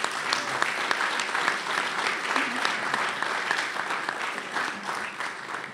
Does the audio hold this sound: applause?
yes